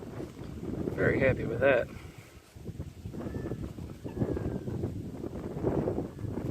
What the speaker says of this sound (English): When this wind dies down